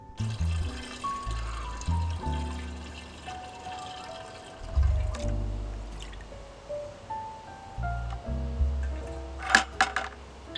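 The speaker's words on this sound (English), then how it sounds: "pour that all through the funnel into our fermentation jug" Homemade wild grape wine pours through a funnel into a fermentation jug, a continuous gurgling trickle with splashes and bubbling drips, close by, with music playing underneath.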